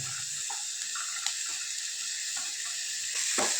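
Carrots and other vegetables for momo filling sizzle steadily in a pan, a close, even hiss with a few soft stirring clinks and no talk.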